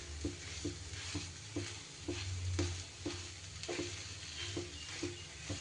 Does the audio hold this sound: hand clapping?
no